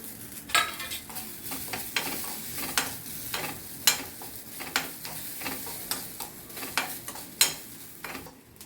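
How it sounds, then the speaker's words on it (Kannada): Cumin and coriander seeds fry in a pan, a steady close sizzle broken by repeated scraping stirs and light clicks of a spoon against the pan. "ಜೀರಿಗೆ ಆ್ಯಂಡ್ ಧನಿಯಾನ ಹಾಕಿ ಮತ್ತೆ ಫ್ರೈ ಮಾಡಬೇಕು"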